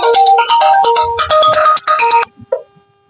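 A mobile phone ringtone plays a quick, bright, melodic tune for about two seconds, loud and close, then cuts off, leaving a few faint rustles and a brief tone.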